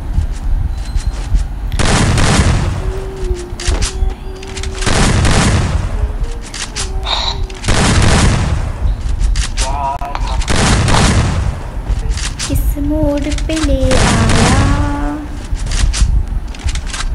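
Gunfire and heavy booms from the video game Free Fire, with several loud, drawn-out blasts in a row and fainter in-game tones between them, close and dominant.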